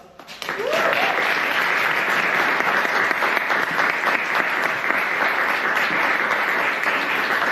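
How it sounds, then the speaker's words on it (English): Sustained applause from a Toastmasters meeting audience rises quickly and holds as dense, steady clapping from a roomful of people, full and close for several seconds. "So let's give him a huge round of applause."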